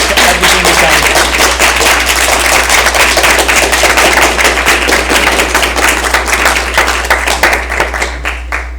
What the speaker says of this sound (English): give a big round of applause to all of your amazing advisors and e-board